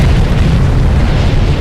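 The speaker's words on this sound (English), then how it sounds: "The explosion sounded like a freight train colliding with a cannon factory." A bursting molasses tank explodes in a loud, close, deep boom, its heavy low rumble sustained and rolling for about a second and a half, with no talk.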